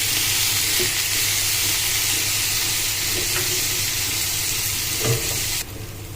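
Spicy shrimp with spices and lemon juice frying over medium-high heat, a steady loud sizzle with occasional soft stirring clicks, dropping in level just before the end.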